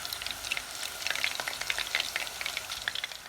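Prawns fry crisply in hot oil, a close, dense crackle and sizzle with quick popping bursts throughout and no voices.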